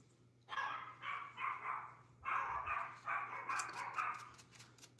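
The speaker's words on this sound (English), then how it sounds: "Sorry about the dogs, you guys." Several dogs bark in repeated bursts close by, overlapping one another across most of the stretch, with a steady low indoor hum underneath and no talking.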